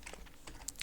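Keystrokes on a computer keyboard while a password is entered at a Linux terminal, a short quiet run of several clicks with a couple of sharper taps near the end.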